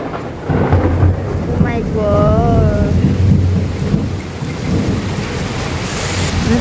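Heavy rain pours steadily over thunder rumbling through the whole stretch, with a dense low roar and rustling hiss throughout; a voice speaks briefly partway through, in Bhubaneswar.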